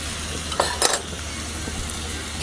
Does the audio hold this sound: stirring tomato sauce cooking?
yes